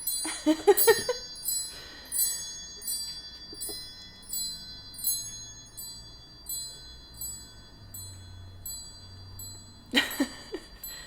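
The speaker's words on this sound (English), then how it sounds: "Wind chime time." A wind chime rings out in repeated clusters of bright metallic tones, with a louder flurry at the start and near the end and softer strikes between, lingering over a quiet room.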